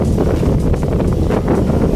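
Steady, heavy wind rushes across the microphone without a break on a boat heading to Masbate, mixed with low engine or water rumble as if out on an open deck.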